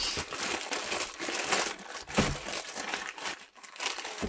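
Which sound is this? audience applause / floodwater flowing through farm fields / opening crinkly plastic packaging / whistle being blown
opening crinkly plastic packaging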